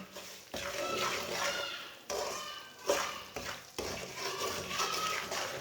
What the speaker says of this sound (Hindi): ऐसे ऐसे चम्मच चलाते हुए ब्राउन करना